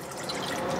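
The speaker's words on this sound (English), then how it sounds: "In a saucepan over here, we're gonna put 1 cup of water." Water poured into a saucepan in a kitchen while making sticky toffee pudding, a brief steady splashing pour, close and continuous, with no talk.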